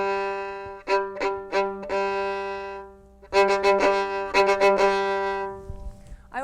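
Short detached off-the-string bow strokes on a bowed string instrument, played slowly as a staccato passage: clear separated notes in small groups with pauses, moderately loud and close, no voice.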